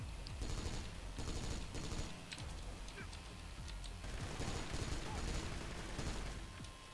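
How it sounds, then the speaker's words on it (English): Continuous heavy machine gun fire in the video game Kane and Lynch, a fairly quiet, steady rattle of rapid shots with no break. "Get my heavy machine gun out, and here we go"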